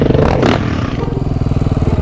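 A motor vehicle drives and pulls over to the curb: a loud, close engine drones with a pulsing rhythm, with a scraping clatter near the start that settles into steady running.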